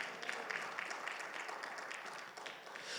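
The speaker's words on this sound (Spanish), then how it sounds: "Dale un fuerte aplauso al Señor, por favor." A church congregation at a Bible seminar applauds, a continuous wash of clapping heard fairly faintly and evenly throughout.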